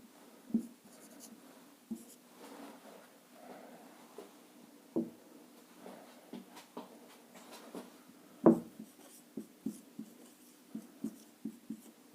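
Chalk or a marker draws a right triangle on a board, giving scattered taps and short scratchy strokes in an irregular rhythm, close and fairly quiet against a quiet room.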